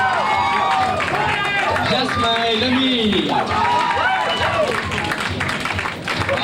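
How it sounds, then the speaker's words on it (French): Audience applause and cheering fill a hall at a university residence festival, a loud, dense wash of clapping with crowd noise while an announcer calls out names over it. "l'applaudit bien fort."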